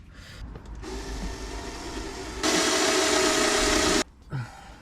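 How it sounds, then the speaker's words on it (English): A power drill whines steadily, then rises in pitch and loudness as it bites through a plate drilling a pilot hole, cutting off abruptly near the end. "I'm going to take this plate and just drill a pilot hole straight through"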